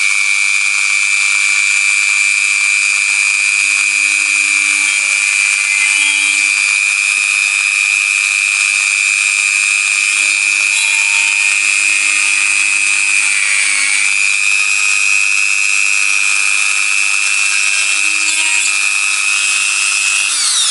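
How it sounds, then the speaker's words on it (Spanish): A high-pitched Dremel rotary tool with a 1 mm drill bit whines steadily and loudly throughout, with a brief dip in pitch partway as the bit bites, running continuously without talk. "vamos a taladrar el primer agujero"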